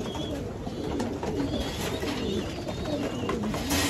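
Pigeons coo softly at close range against a busy background of rustling and shuffling, the low repeated calls blending with faint higher chirps.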